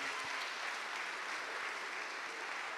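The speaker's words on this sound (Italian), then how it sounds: "Un grande applauso" Audience applause for singer Maria Aversano at a televised singing contest, a steady dense wash of clapping from a sizable crowd, even and sustained without pauses.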